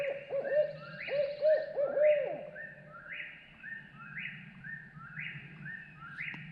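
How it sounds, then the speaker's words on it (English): Owl hooting at night during a Tennessee turkey hunt, a series of clear, fairly close hoots repeating in quick rhythmic bursts for the first couple of seconds, with other birds calling steadily behind. "That owl just kicked off"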